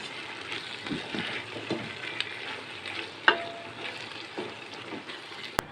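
Cooked mixed vegetables with garam masala are stirred in a hot pan, with a steady sizzle under repeated soft scrapes and knocks of a spoon, close by, with one sharper clank near the end and no talking.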